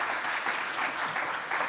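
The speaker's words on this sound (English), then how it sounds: "Please, a round of applause." Audience at a climate change lecture applauds as a professor is welcomed onto the stage, a brief burst of dense, even clapping from a crowd.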